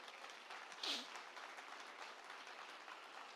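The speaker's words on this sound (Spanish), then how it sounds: "Bríndele al Señor una fuerte ofrenda de aplausos." A church congregation applauds during a Spanish-language sermon, a steady wash of clapping from a crowd held at an even level for a few seconds, with faint voices mixed in.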